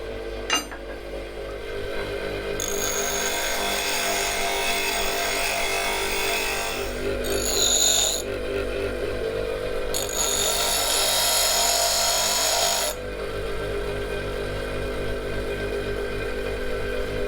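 A motor-driven grinder hums steadily while a rusty woodturning tool is pressed against the wheel in several stretches of rough, hissing grinding with short gaps between them.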